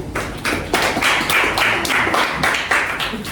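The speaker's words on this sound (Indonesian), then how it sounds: "Tepuk tangan untuk Mas Husen." A small group claps hands steadily for a few seconds, the claps close and fairly loud with no talking.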